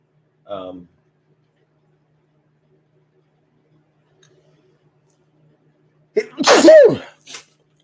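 A brief voice at the start, a long silence, then a loud close sneeze near the end with a small trailing sniff.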